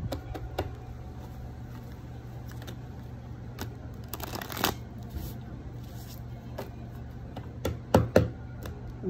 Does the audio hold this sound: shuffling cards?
yes